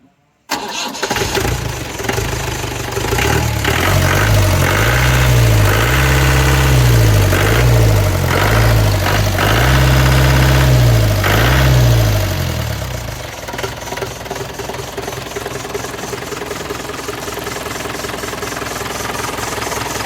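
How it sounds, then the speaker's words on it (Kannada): Modified vehicle with a Peugeot engine cranks and starts, then settles into a loud, steady idle with a rough mechanical rumble held close for the rest. "ಒಂದು ಸ್ಟಾರ್ಟ್ ಮಾಡಿ ತೋರಿಸ್ತೇನೆ ನಿಮಗೆ ಇಂಜಿನ್ ಸೌಂಡ್ ಹೇಗೆ ಬರ್ತದೆ ಅಂತ ಹೇಳಿ"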